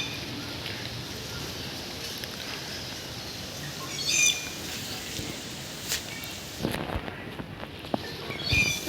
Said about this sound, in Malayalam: ഇവിടെ കിളിയൊക്കെ നിറയെ വരും കേട്ടോ ഇത് കഴിക്കാൻ വേണ്ടി